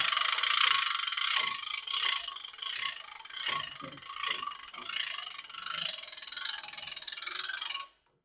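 A ratchet tightens a strap on a heavy-duty lift during semi truck hood removal, giving repeated close mechanical clicking and rasping strokes in uneven bursts for about eight seconds before it stops abruptly.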